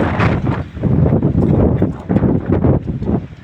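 Strong gusty wind buffets the microphone in loud, surging rumbles that rise and fall without pause.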